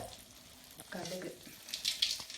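Mustard seeds sizzle and crackle in hot oil for dry fish gravy, a faint hissing fry with small pops and a brief stir, quiet and close.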